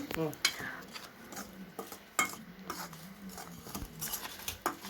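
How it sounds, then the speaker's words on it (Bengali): A spoon clinks and scrapes against a bowl while dry ingredients for homemade pizza dough are stirred, giving quiet irregular taps and scrapes close by with some soft rustling. "তো এই শুকনো উপকরণগুলো খুব সুন্দর করে মিক্সড করে নিচ্ছে।"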